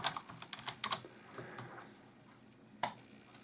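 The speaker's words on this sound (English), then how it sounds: "I'm just at Google and I'm going to type in" Quiet, light typing on a computer keyboard, a quick flurry of keystrokes followed by a few softer scattered taps and one sharp final key press, heard close with nothing else going on.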